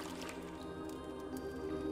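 Splashy, squishing water sounds as a character swims in the video game Lumo, soft liquid drips and gurgles running steadily over a continuous tonal game music bed, with no talk.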